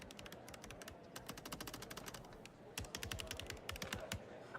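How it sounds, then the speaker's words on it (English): Computer keyboard typing in the game The Operator sounds as rapid, crisp key clicks in irregular bursts. A few heavier presses stand out, and the clicks play quietly and close up with no voices. "Me typing actually sounds like I'm typing in game,"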